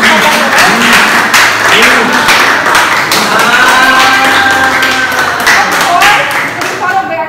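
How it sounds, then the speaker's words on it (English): Audience applause at a school meeting honoring students, dense steady clapping throughout with faint talk and other voices mixed in, tapering slightly at the end. "let us all clap our hands for our first honor"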